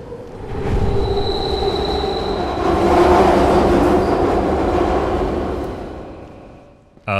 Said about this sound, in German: Also die Züge fahren doch noch.